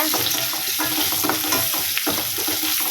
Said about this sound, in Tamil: வெங்காயம் வதங்கிட்டு இருக்கும் போதே நம்ம இப்போ உப்பு சேர்த்துக்கலாம்.